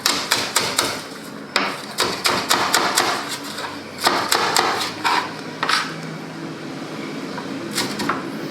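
A knife chops scallions on a cutting board in bursts of rapid, sharp, close knocks and thuds, pausing between runs of chopping, with no one speaking.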